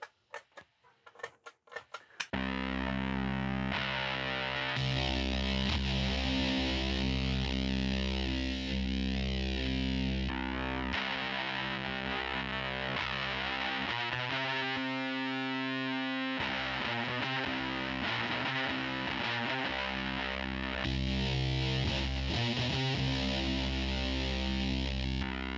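Electric guitar driven through a fuzz distortion pedal, a brief quiet pluck then loud, thick sustained chords with buzzing harmonics, a thinner held tone midway, continuous and close with no talk.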